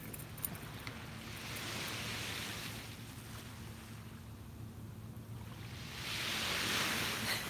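Steady wash of ocean surf at a beach, a broad continuous rush that swells louder toward the end, with wind noise mixed in and no talking.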